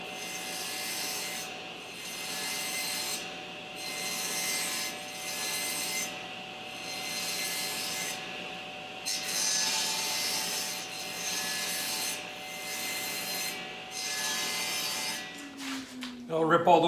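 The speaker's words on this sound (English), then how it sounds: "So I'll just cut those off through the saw first." A hand saw cuts through wood for a garden obelisk, steady rhythmic back-and-forth rasping strokes close by, ending with a few knocks and clatter.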